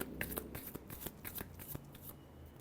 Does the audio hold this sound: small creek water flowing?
no